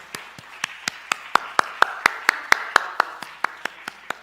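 Church congregation clapping in a steady, even rhythm, about sixteen sharp claps spaced a quarter second apart, close and fairly loud, with no talk over them.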